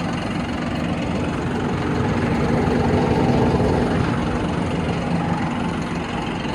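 The Everything Attachments Wicked 72 cutter runs and spins with a continuous, steady engine-like drone, close and loud and without pauses, with no voices heard.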